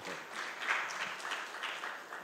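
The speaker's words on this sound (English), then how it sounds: "Let's clap." An audience at a formal gathering applauding, a steady, distant wash of many hands clapping together that holds evenly throughout.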